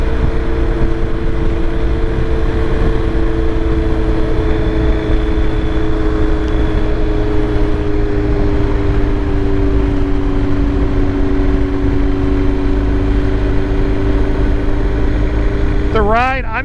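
A 2023 BMW R 1250 GS Adventure motorcycle on a demo ride in dynamic mode, its boxer engine droning steadily with a slowly falling pitch, loud and close throughout, blended with continuous wind rush.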